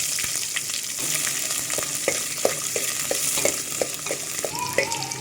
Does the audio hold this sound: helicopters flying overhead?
no